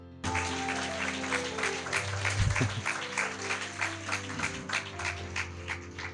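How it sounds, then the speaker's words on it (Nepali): A church congregation at a Sunday Nepali service breaks into sustained applause, many hands clapping in a dense, steady wash, with a brief voice or shout midway. "असलसँग ताली बजाउनुहोस्।"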